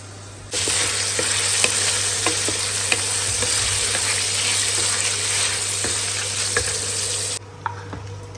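Paneer frying in oil in a home kitchen, a loud, steady sizzle with scattered pops and ticks over a low constant hum, stopping abruptly near the end, with no talking.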